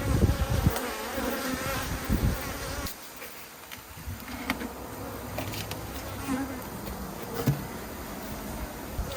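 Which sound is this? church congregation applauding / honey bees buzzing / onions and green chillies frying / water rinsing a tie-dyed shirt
honey bees buzzing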